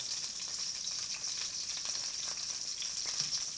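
Frozen hash browns frying in a pan with butter, a steady, fairly quiet hiss and crackle of sizzling throughout with no voices.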